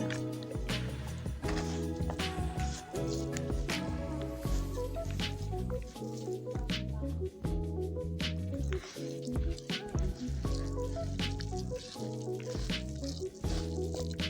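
Potato pancake mixture is worked by hand in a bowl, giving wet, squelchy squishes and soft slaps in an uneven rhythm over a steady tonal background.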